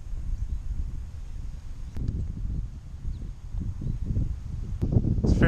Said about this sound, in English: There's some wind right now, sort of testing this to see if it's working. Doing my best to pick up some wind noise.